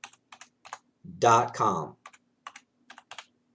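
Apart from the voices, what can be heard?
typing on a computer keyboard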